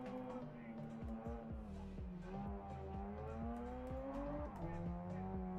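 A revving race car engine in a racing video game whines through gear changes, including fourth gear, with rising and falling pitch, tires squealing, steady and close with no pauses.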